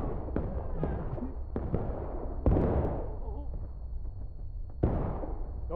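Musket fire in the video game War of Rights during a historical rules event, scattered sharp cracks near and far with echoing tails, one louder close volley, and players talking in between.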